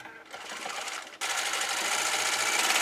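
A sewing machine stitching pieces of a quilted coat together, a close, steady whirring hum that starts after a short pause and then runs continuously at a higher, even pace with no talking.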